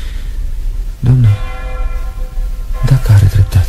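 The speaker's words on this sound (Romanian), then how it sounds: "pentru ce bate clopotul ăsta?" Church bell tolling during a stage play, two deep resonant strikes about two seconds apart ringing out over a quiet room tone, loud and close.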